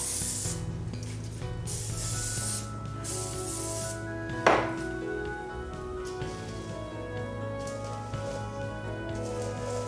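Grease is sprayed onto a pan for Rice Krispie bars in a few short hissing bursts over the first seconds, followed by a brief scrape, all under steady background music.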